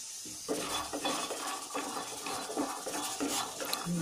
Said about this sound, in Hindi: मूंगफली को डालकर पहले हम भून लेंगे 1 मिनट तक